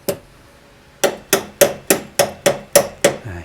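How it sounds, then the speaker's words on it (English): A hammer strikes small vice grips clamped onto trim on a 1967 Porsche 911 dash, one sharp metallic tap followed by a pause, then seven steady, evenly spaced hits close up. "I'm just clamping down with some small vice grips and hitting the vice grips."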